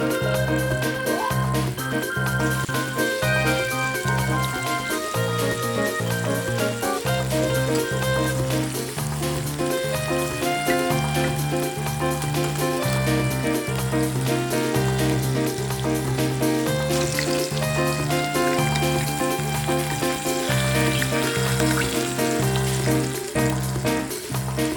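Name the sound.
pork chops browning in a pan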